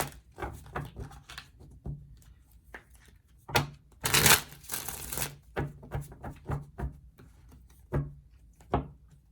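Tarot cards being shuffled and drawn, with papery riffles, a long burst of rapid shuffling in the middle and soft slaps as individual cards are laid down, close and fairly clear.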